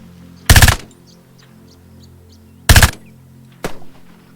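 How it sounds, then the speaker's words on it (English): Bursts of machine gun fire in a WWII military-sim video game, three sharp loud volleys separated by pauses, the last one shorter, over a quiet low background. "we got another machine gunner next to me"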